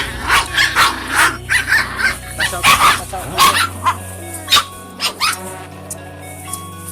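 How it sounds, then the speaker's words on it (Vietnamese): Two dogs growl and squabble while eating fish, yips and snarls coming close and loud, with a person talking over them. "con chó nó đang ken nhau luôn các bạn nha"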